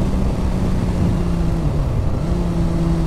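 A Suzuki GSX-R1000 K8 sportbike is ridden along a mucky road, its engine holding a loud, steady drone with gentle pitch shifts as the throttle changes.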